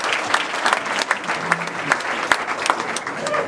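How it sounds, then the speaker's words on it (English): Wedding guests applaud steadily, a dense wash of clapping from many hands at moderate distance, with no pause throughout. "So give yourselves a round of applause to start."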